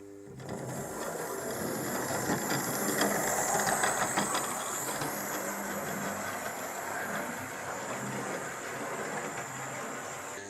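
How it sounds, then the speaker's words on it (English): A Hornby Eddie Stobart 0-4-0 model locomotive, a short-wheelbase loco, runs over points with a steady whirring motor hum and faint rail clatter, moderately quiet and continuous. "I'm going to show you a clip of it going over some points."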